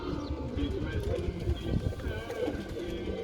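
Pigeons in a loft coo softly and repeatedly, low and muffled, with one of the big adult males among them, under steady background bustle and faint wing or foot movement.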